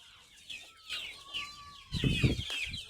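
Village hens in a backyard flock give short clucks and a drawn-out squawking call, then louder clustered clucking near the end, close by and without talk.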